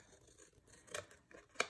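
Scissors cut through paper during a bookbinding craft project for a mini folio album, giving a few faint, quiet snips with soft crinkling in between.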